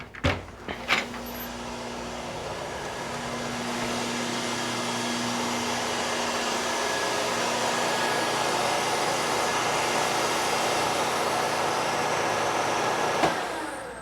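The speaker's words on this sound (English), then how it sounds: "But I want you to hear the motor" An Endless Pools swim machine motor running in a garage, a steady loud broadband whir with a low hum that holds for the whole stretch after a few knocks at the start.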